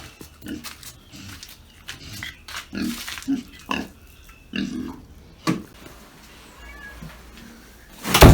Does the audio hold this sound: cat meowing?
yes